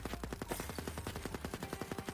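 Rapid, even bursts of gunfire from a multi-bullet weapon whose shots split apart in the video game Erosion, a steady stream of sharp cracks over about two seconds, close and loud, with no voices.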